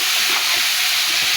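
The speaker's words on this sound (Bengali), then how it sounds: "দিয়ে আমি এই বাঁশগুলো তেলের মধ্যে নাড়াচাড়া করে একটু ভেজে নেব।" Bamboo shoots frying in hot oil with dried red chillies and whole cumin, a loud continuous hiss and sizzle close up, with no talk.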